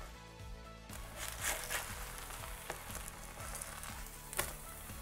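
A layer of cheese fries crispy and golden in a pan for steak quesadillas, a close, steady sizzle with scattered pops and crackles and a faint rhythmic thudding underneath.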